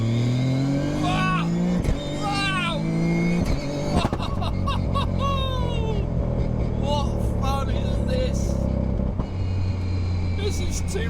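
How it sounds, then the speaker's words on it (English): Toyota GR Yaris rally-bred hatchback with anti-lag mode enabled pulls hard in second gear, its engine loud and close, revs sweeping upward, with a sharp break and more rising revs before a steady rumble. A voice talks over parts of the run. "I just want to do a little second gear hit. Anti-lag mode enabled, off the throttle, go!"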